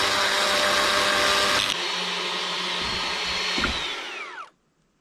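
Small electric chainsaw with an undersized chain running at a steady high-pitched whine, briefly shifting in load, then spinning down and cutting out to silence near the end.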